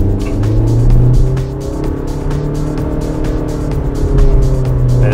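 A Honda BR-V engine revving as the SUV accelerates from a standstill, a loud continuous drone that rises and holds, with road and tire roar filling the cabin and no talk.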